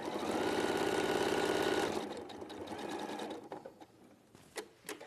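A sewing machine stitches a seam in a steady, loud whirring run for about two seconds, then stops, leaving quieter handling clicks and taps.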